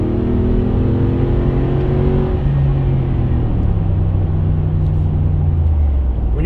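A 2015 Mercedes G550 with its non-AMG V8 engine accelerates, a steady loud low rumble inside the cabin with rising and falling engine tones as it revs through the gears.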